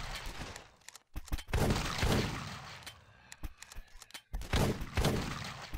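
Shotgun blasts from the Flash game The Last Stand, a zombie defense shooter: several loud, sharp booms in irregular succession, each with a short decaying tail, separated by brief quiet gaps.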